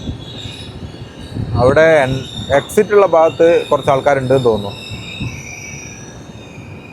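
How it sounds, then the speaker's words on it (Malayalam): Himsagar Express pulling in at a platform, a steady rail rumble with high squealing overtones running under a man's nearby speech throughout. "1ാമത്തെ പ്ലാറ്റ്ഫോമിലാണ് ട്രെയിൻ വന്നത്."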